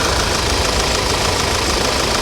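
A 2008 Audi S4 Quattro convertible with a 4.2-liter direct-injection V8 and no engine cover idles close by, a loud, even ticking clatter with a steady rumble beneath it and no talk.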